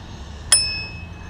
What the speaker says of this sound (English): There, little bell.